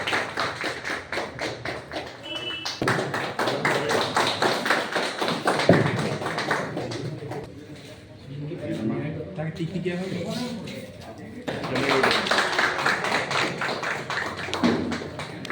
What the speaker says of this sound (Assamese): হাত তালিটো মাৰক, ভাল লাগিব।